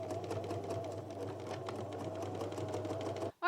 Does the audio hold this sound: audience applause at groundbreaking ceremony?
no